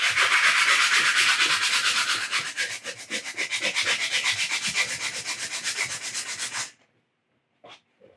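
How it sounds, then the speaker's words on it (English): Coarse 80-grit sandpaper rubbed by hand in steady back-and-forth strokes, loud and close with a rasping scratch, then stopping abruptly, followed by silence and one faint short rub. "This is 80 grit sandpaper"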